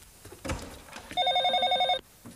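A telephone rings once with a rapid warbling electronic trill, loud and close, after a brief shuffle of background noise.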